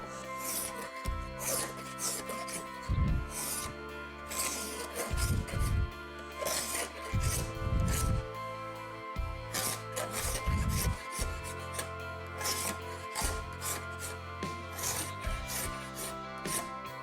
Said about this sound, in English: Just use a good old paint scraper and get that glue off.